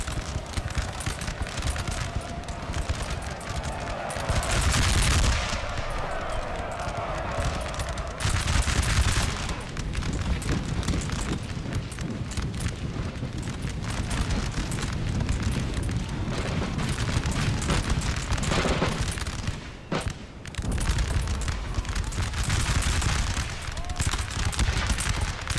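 Massed musket volleys crackle from a firing line in Napoleon Total War, a dense, continuous roar of overlapping shots and booms running throughout, with speech faintly mixed in.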